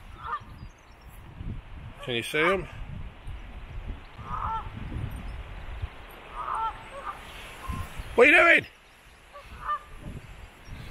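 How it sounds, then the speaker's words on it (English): Geese honk a few times, loud, harsh calls close by, while a person talks intermittently over faint background noise. "The geese, hold on."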